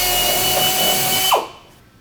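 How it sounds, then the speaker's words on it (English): A power drill bores a 13/64 hole through the top of a PolyJohn portable toilet unit's side panel, whining steadily at full speed before winding down and cutting off abruptly near the end. "drill a 13/64 hole"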